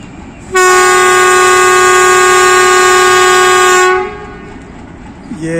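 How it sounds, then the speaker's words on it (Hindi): Pakistan Railways Mehar Express train sounds a long, loud, steady horn whistle at departure, holding one sustained tone for about three seconds before cutting off, leaving faint station ambience. "ये पहली लॉन्ग विसल मेहर एक्सप्रेस की।"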